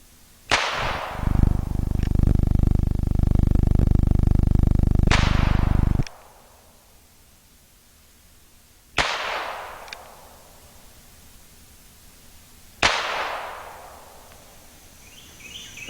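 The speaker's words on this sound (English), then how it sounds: "sent us a spare cylinder in 22 long rifle so we can shoot it as well in the little gun" A North American Arms mini revolver with a .22 Long Rifle cylinder fires outdoors a few times, each a sharp, loud crack with a short ringing tail, spaced several seconds apart, following a long stretch of steady noise.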